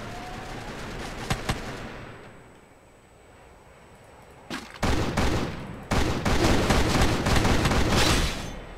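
Gunfire in the Free Fire mobile battle royale game: a couple of sharp shots, a quiet pause, then sustained automatic bursts of loud rapid fire filling the rest.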